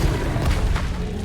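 A spell cast in Hogwarts Legacy, the Expelliarmus disarming charm, lands as one dense, loud booming burst that fills the whole moment amid steady combat noise.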